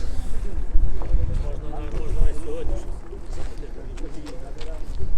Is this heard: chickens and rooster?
no